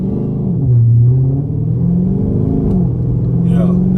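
A Dodge with a 392 engine pulling away from a stop, its deep exhaust rumble rising and falling as the throttle opens, loud and close inside the car, with voices talking over it.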